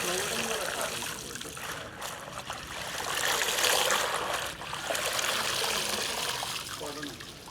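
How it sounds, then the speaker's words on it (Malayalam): Spinach leaves being washed by hand, swished and shaken in a full vessel of water, giving continuous sloshing and trickling that swells and eases in waves, close by and fairly loud. "ഇങ്ങനെ ഇത് നല്ലപോലെ നിറച്ച് വെള്ളം എടുത്തിട്ട് ഇങ്ങനെ ഒലച്ച് ഒലച്ച് കഴുകി"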